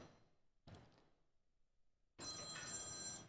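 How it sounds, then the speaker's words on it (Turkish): A telephone bell rings in a studio during a Turkish talk program: a short ring burst, a pause, then a louder, sustained ring to the end. "İlhan Başkanım telefonu"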